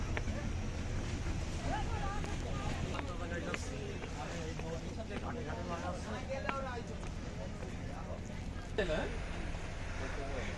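A trawler boat's engine gives a steady low rumble throughout, overlaid by wind and scattered voices talking nearby.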